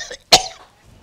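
A man gives a single sharp cough, close and clear, with a short throaty tail and a faint voice just before it.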